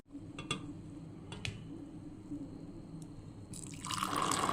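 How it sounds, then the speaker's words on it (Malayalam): Coffee poured into a glass nearby, a few faint drips and trickles first, then a louder, steady splashing pour building at the end, with no talk. "കോഫി ഞങ്ങൾ ഗ്ലാസ്സിൽ ഒഴിക്കുകയാണ്"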